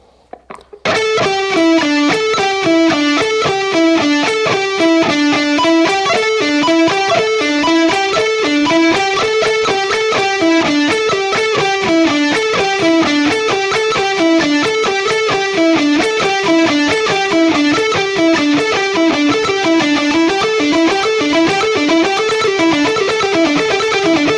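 A distorted electric guitar plays a steady, slow pentatonic warm-up run of single notes rising and falling in a repeating pattern, loud and continuous with no talking.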